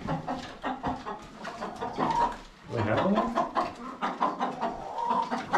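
Backyard chickens cluck in short repeated bursts close by during a summer outing, mixed with children's and adult voices talking over them.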